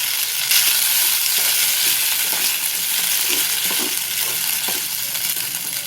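Sago pearls frying in oil with green chillies and curry leaves give a steady, loud sizzle throughout, with a few soft stirring scrapes and no voices.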